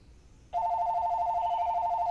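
Telephone ringing during a Fight Angel arcade-mode game session, a steady electronic ring that starts abruptly after a brief quiet moment and continues loud and unbroken to the end.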